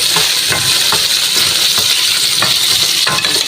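Bird's eye chili drops into a loud, steadily sizzling pan of frying food, with a few soft stirring knocks under the constant hiss and no voices.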